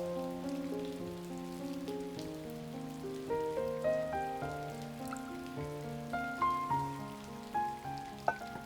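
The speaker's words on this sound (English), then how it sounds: "There is a light rain in front of the mountain, near the woods outside the beautiful temple." Light rain falls in front of a mountain near woods outside a temple, a soft steady patter sitting beneath gentle melodic music that fills the whole stretch.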